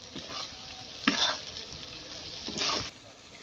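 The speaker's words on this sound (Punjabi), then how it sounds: "ਮਸਾਲੇ ਪਾਉਣ ਤੋਂ ਬਾਅਦ ਆਪਾਂ 2 ਮਿੰਟ ਆਪਾਂ ਇਹਨਾਂ ਨੂੰ ਪਿਆਜ਼ਾਂ ਨੂੰ ਆਪਾਂ ਹੋਰ ਭੁੰਨਾਂਗੇ" Onions fry with spices in a pan, giving a soft steady sizzle broken by a few brisk stirring scrapes close by, with no one speaking.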